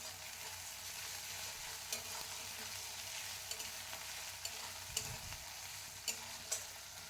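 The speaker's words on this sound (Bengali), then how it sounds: "আদা রসুনটা দিয়ে একটু ভেজে নেব হালকা করে" Ginger garlic paste frying with chopped onion in oil left from frying fish gives off a steady, bright sizzle, broken by a few sharp clicks of stirring, with no talking.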